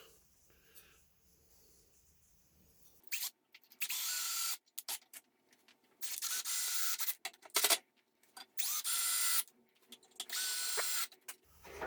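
A power driver sinks 2-inch wood screws into leveling feet for a lathe bench, making several short bursts of buzzing whir separated by brief pauses at close range.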